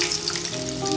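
Potato kababs frying in oil, a dense, close crackling sizzle that holds steady throughout with no talking.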